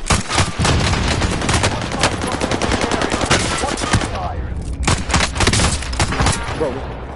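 Rapid automatic gunfire from the video game Call of Duty Warzone, dense bursts running nearly the whole time with a brief lull near the end before shooting resumes, loud and close.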